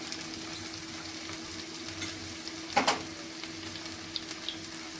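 Chopped ginger and spring onion whites frying in a pan for baby corn chilli: a steady, even sizzle with one brief burst of spattering partway through.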